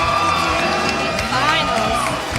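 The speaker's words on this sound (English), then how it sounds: "the crowd is getting hyped up" A crowd at the axe throwing championship final cheers, whoops and shouts, a loud, dense wall of excited voices that stays steady throughout.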